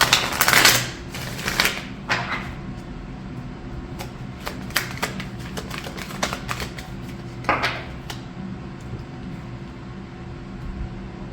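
Oracle cards are shuffled by hand, giving a quick loud riffle at the start followed by scattered crisp flicks and taps of cards at close range, with no speech.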